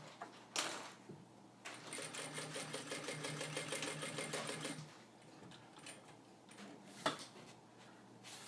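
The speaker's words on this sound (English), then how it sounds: "one more stitch here just to hold in that loose end of webbing. Lock the needle." Sewing machine stitching the loose end of backpack strap webbing, a steady rapid run of stitches lasting about three seconds, with a short whir beforehand and brief handling clicks afterward, close and moderately loud.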